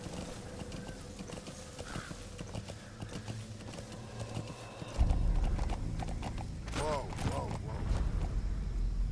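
Horse hooves clip-clop and gallop in a steady rhythm in the video game Metal Gear Solid V: The Phantom Pain, growing louder partway through, with a horse whinnying briefly over the pounding.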